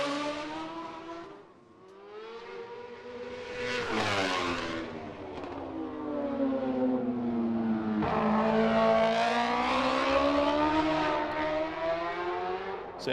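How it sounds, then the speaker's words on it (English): A racing motorcycle at the Macau Grand Prix pulls out of the Melco hairpin, the engine note climbing and dropping as it shifts up through the gears, rising loud and close with no talk. "here is Rutter into the Melco hairpin. First gear, then second, third, into fourth, notch into fifth"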